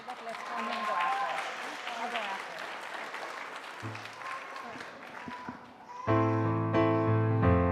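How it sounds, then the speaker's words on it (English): Applause from the audience at a high school graduation ceremony, a sustained spread of clapping that fades near the end before music with sung vocals begins. "let's please give a round of applause"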